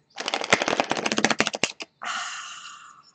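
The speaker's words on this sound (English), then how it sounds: "I'm not going to shuffle it all the way" A deck of oracle cards is riffle-shuffled in a quick rattling flutter, followed by a smoother sliding burst as the cards settle, up close.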